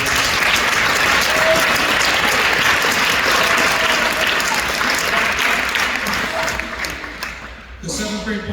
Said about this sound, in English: let's give a round of applause for the 7th and 8th